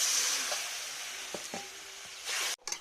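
Spice masala frying and being stirred in a pan: a bright, steady sizzle with a few soft knocks from the stirring utensil, close by, then a brief cut-off near the end.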